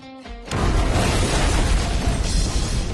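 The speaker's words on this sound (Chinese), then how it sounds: "这段大爆炸画面也是出自乌军之手" A short tonal sound cuts off into a massive, deep boom that roars and rumbles on for several seconds, loud and close: an ammunition store in a building blown up in wartime fighting in Ukraine.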